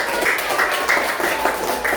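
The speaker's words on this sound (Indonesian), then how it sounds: "Tepuk tangan untuk anak-anak." Children in a coding and artificial intelligence class applaud with brief, steady, mid-loud clapping that holds a loose pulsing rhythm.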